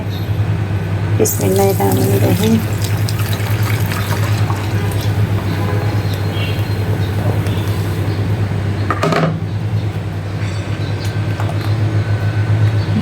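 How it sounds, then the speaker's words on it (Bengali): Pudding batter pours and trickles steadily through a kitchen sieve, a continuous close liquid flow with a low hum underneath and a few brief clinks. "এখন পুডিংয়ের ব্যাটারটা সুন্দর করে আমি এখানে ছেঁকে নিব"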